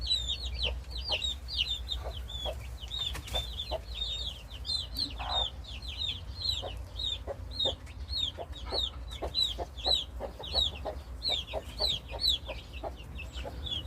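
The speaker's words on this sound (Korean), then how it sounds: "어미닭은 꾹꾹꾹 소리를 내며 병아리들을 몰고 이리저리 몰고 다니고요" A mother hen clucks steadily to her Gold Brahma chicks, a run of short, low repeated clucks close by, with the chicks' high peeping continuous above it and no talking.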